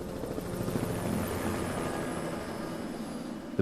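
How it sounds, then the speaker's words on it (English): Helicopter hovering over a lake while lowering an orange water bucket for firefighting: a steady, fairly close rotor drone with rhythmic blade chop that holds throughout, no voices. "The helicopter is lowering down an orange bucket."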